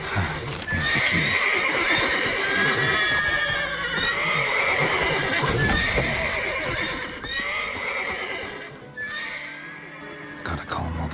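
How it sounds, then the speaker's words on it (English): Horses in The Witcher 3: Wild Hunt neigh and whinny repeatedly, loud and close, over steady hoof clip-clop, with several overlapping calls across the stretch. "Gotta calm all the horses before they wake the guards."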